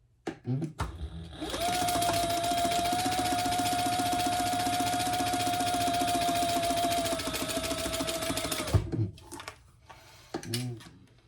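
A sewing machine top stitches a hobo-style shoulder bag in one steady, close, continuous run of rapid needle clatter lasting several seconds, with brief handling noises before and after.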